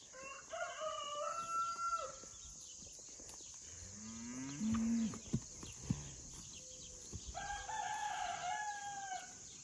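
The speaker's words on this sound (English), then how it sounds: "Come on, calves!" Calves on a farm mooing and lowing, several drawn-out calls overlapping near and at middle distance, with a rooster crowing in the background and a steady hum underneath.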